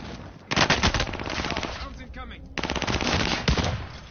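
Machine gun fire in the video game Warzone on PS4, coming as two long, loud, rapid automatic bursts separated by a brief lull.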